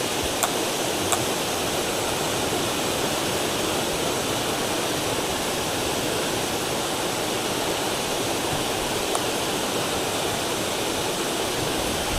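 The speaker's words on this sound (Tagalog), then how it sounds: "So dito tayo sa bagsakan ng tubig." Waterfall in a hidden spot near Puerto Princesa, Palawan, pouring into a pool, a steady loud broadband roar of falling water that holds unbroken throughout, with no voices.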